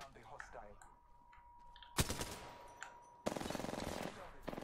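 Rapid automatic gunfire crackles in bursts during an Apex Legends match, a sharp shot followed by a sustained volley and another dense rattling burst, close and loud, with a voice talking at times.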